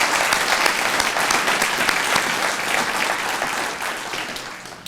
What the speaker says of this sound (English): let's give our Board of Trustees another big round of applause.